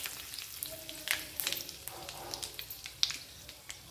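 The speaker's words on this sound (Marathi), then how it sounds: "थोडा कढीपत्ता टाकून द्यायचा आहे" Curry leaves crackling in hot oil during a tempering of cumin and asafoetida for a pea and potato dish, with a steady frying hiss broken by sharp pops and spits.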